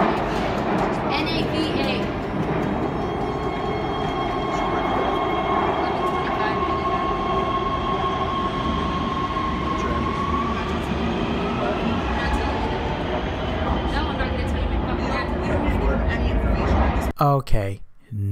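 A train pulls into a station with a loud, steady rumble of rolling carriages and a drawn-out metallic brake squeal. Voices talk nearby throughout, and a few sharp knocks come at the end.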